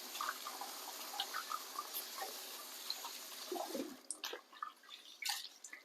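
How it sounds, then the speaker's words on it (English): Water sloshes and trickles as grains are swirled and rinsed, a soft continuous wash breaking into splashy bursts toward the end, no voices. "So washing my rice."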